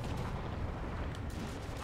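Battle noise from a Spider-Man video game: sustained gunfire and rumbling blasts run continuously at a steady level, dense and booming, with no clear gaps between shots.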